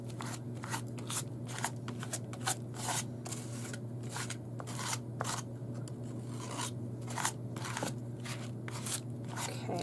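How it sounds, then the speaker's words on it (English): An old plastic insurance card is scraped repeatedly across paper butterflies to smooth them flat, giving close, rhythmic raspy strokes over a steady low hum. "I'm going to smooth these out with my old insurance card."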